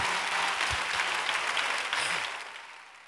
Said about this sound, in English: You ought to clap your hands for your parents right there.